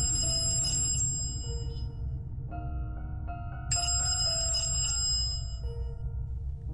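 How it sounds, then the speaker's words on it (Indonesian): A telephone rings in two bursts of bright, trilling electronic tone separated by a short gap, moderately loud over a low background hum, with no talking. "Tiba-tiba, telepon berbunyi."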